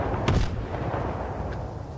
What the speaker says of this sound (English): Explosions somewhere.